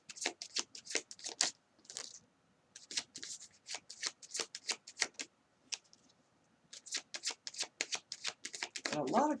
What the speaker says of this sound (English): Got a lot of cards on that shuffle.